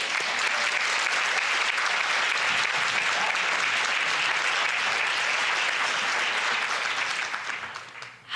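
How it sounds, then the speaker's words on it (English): Attendees at a school board meeting give a steady, full round of applause for a new student representative, even dense clapping lasting about eight seconds before tapering off at the end. "Can we give a round of applause, please?"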